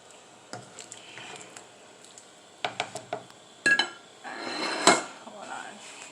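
A pot of Jamaican-style winter chicken soup with dumplings is stirred, giving a series of sharp metallic clinks and scrapes of a spoon against the pot, spaced unevenly, with a louder clatter near the end.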